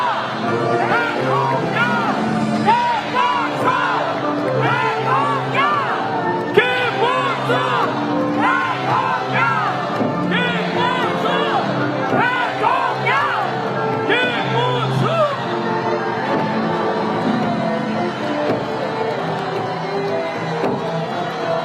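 Rally crowd in Seoul chanting presidential candidate Kim Moon-soo's name, many voices shouting in rhythmic repeated bursts over a loud, continuous din of cheering at an outdoor campaign event.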